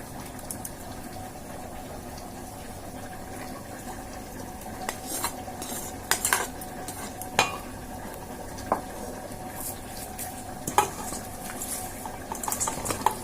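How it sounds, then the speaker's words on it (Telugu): A spoon stirs cooled tempering into cauliflower pickle in a bowl, making soft, wet mixing sounds with a few sharper clinks of metal against the bowl scattered through the clip. "ఈ పోపును కూడా ఇందులో వేసి కలుపుకుందామండి"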